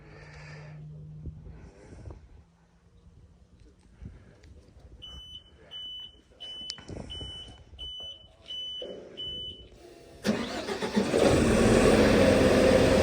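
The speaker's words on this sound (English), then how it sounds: "The machine will beep 7 times." A welder gives a run of seven short, evenly spaced electronic beeps, then its engine cranks and roars to life loudly, drowning out the quiet background.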